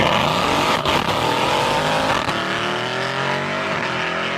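A Hellcat-swapped, all-wheel-drive Honda Accord accelerates hard, a loud, close supercharged roar climbing steadily in pitch through the gears without pause.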